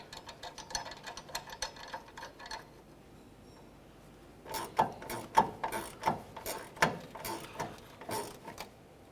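Mounting bolt being tightened on the fuel filler neck of a 2004-2015 Nissan Titan, heard as a run of close ratchet clicks that turns louder and sharper in the second half.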